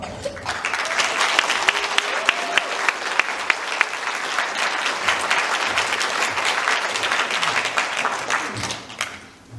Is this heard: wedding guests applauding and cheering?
yes